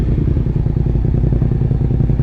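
Motorcycles idling and revving close by after a rainy night ride over dark, potholed, sandy roads, a loud steady rumbling engine with some rattling clatter, no talk.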